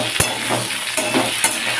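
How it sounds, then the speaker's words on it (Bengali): Potato and elephant foot yam fry in a pan, a close, steady sizzle with a few brief stirring scrapes. "আলুটা ভাজা হয়ে গেলে ওলটাও আলুর সাথে দিয়ে দেবো, দিয়ে হালকা করে ভেজে নেব"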